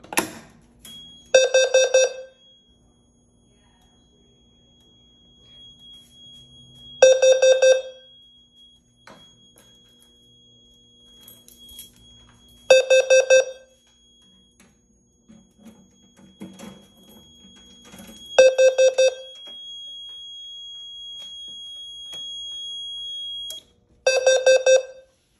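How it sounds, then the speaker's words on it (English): Edwards 270 SBO pull station sets off a fire alarm system: four loud bursts of rapid, evenly pulsed tones, each about a second long and spaced roughly five to six seconds apart, with near silence between them. "First alarm we're gonna pull today is the Edwards 270 SBO."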